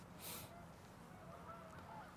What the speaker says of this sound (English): There is a goose passing just right there